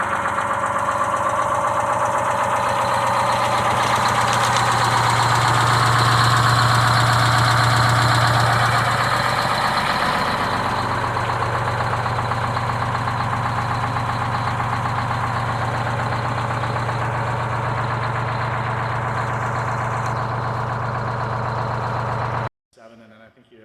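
The engine of a restored 1930 vehicle idles in cold weather, about four degrees, with a loud, steady, close rumble and a low throb. A voice talks over it before the engine cuts off abruptly near the end.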